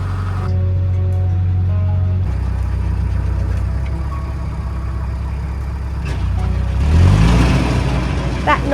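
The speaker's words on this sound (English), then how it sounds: "That noise that startled Jasper was Pete putting the boat into reverse to try and clear some of the weed from the prop." A narrowboat's diesel engine drones steadily on a river, then is shifted into reverse to clear weed from the propeller, the churning surging louder near the end, with voices speaking over it.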